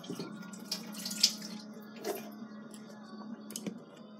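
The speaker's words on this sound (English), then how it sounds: "fill a cup with water." Tap water runs into a cup at a sink, a soft, quiet trickle with small splashes and clinks over a few seconds, nobody speaking.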